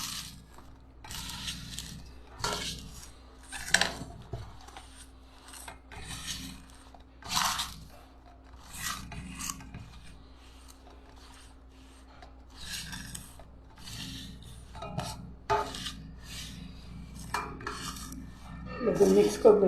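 Hands rub and mix flour with oil for dough, making close, quiet, gritty rasping strokes in an irregular rhythm, with soft pauses between bursts of rubbing.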